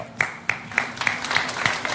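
Several people clap in a TV studio during a cricket talk show, a short burst of applause with sharp claps at an even rhythm, fairly close and loud.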